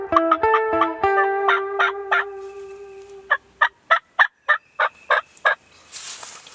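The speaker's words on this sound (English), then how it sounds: "right out of the chute, the old turkeys are gobbling." Wild turkeys gobble in loud, clear rattling calls, first overlapping in a layered chorus, then as a rapid string of separate clucking notes, ending in a brief rustle.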